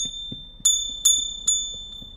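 A small bell, struck by hand on a talk show set, rings out three times with a bright, sustained metallic ping, close and clear over a quiet background.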